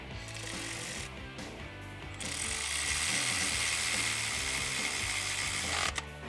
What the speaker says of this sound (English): We can go ahead and just run that bolt down.